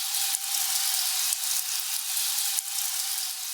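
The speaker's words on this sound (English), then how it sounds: "The highs consist of this sizzling, glass-like texture." The high layer of a Skyrim frost spell: a bright, glassy sizzle hisses steadily in the high range with no low end, broken by a few faint clicks.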